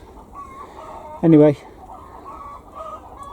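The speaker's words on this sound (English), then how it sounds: "Chickens are making a racket." A backyard flock of chickens near a greenhouse gives one loud, brief clucking squawk midway, with quieter bird calls and low background noise around it and a voice speaking briefly.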